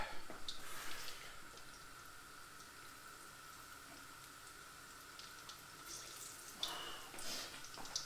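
Water runs steadily from a kitchen tap as hands are washed while fish and chips are being cooked, a continuous hiss that swells briefly near the end with a few small splashes.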